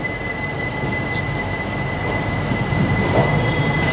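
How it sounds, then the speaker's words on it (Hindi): A passenger train hauled by a WAP-5 electric locomotive departs Indore Junction, with loud steady rolling rumble, sustained high-pitched wheel squeal and faint rail clatter, heard from on board. "WAP-5 लोकोमोटिव लगा हुआ है हमारी ट्रेन को"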